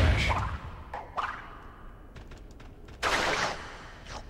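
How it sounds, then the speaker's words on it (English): Game explosions in Crash Twinsanity: a burst of broadband noise opens, a second blast erupts near the three-second mark, and fainter whooshing hits fall in between, all fairly loud with no talking. "Oh, look at the explosion crash."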